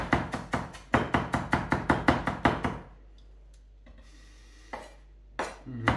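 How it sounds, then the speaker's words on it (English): A knife cross-chops fish-cake mixture with peas rapidly on a cutting board, a quick steady run of about fifteen sharp knocks, then stops, leaving a couple of isolated taps. "Finally chopping it up again, using a safe technique, the cross chop."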